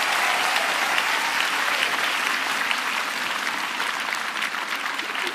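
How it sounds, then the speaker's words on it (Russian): Studio audience applauding on the Russian dance show Dancing with the Stars final, steady dense clapping that stays loud and even throughout with no voices on top. "Ему аплодисменты"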